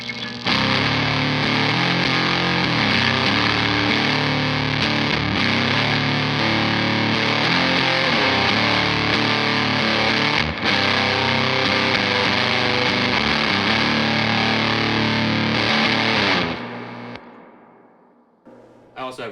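Electric guitar played through a Pine-Box Customs Deep Version 2 fuzz pedal with reverb, loud, thick and sustained, ringing steadily for about sixteen seconds before fading out.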